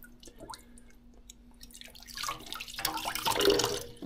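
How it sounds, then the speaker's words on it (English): Tap water drips at first, then runs steadily into a sink as hands are washed beneath it, the splashing swelling louder and closer before easing slightly. "so let's wash my hand"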